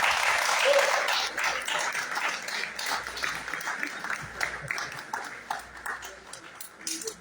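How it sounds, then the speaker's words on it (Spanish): Audience applause for musicians at a Mexican rock concert event, strong clapping at first that thins into scattered claps, moderately distant. "Un aplauso, por favor."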